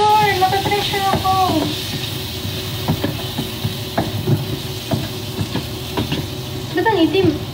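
Garlic fries in a pan with a steady hiss and crackle, while people chat over it and occasional clinks and scrapes break through.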